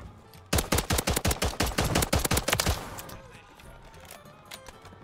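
A rapid burst of automatic gunfire from an XM4 rifle in the video game Warzone, about a dozen sharp shots in quick succession, then fading into quieter background noise.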